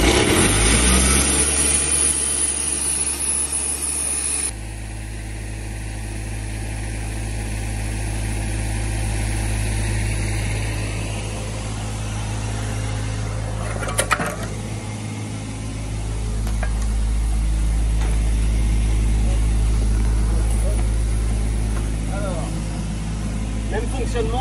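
Sandblasting machine engine starting after preheating, a loud start that settles into a steady running drone with a low hum, continuing evenly at close range.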